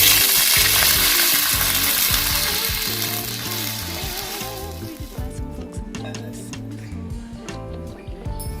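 Water poured into a hot pan of golden-fried onions while making sajjige hisses in a loud sizzling burst that fades into gentler bubbling and stirring clicks.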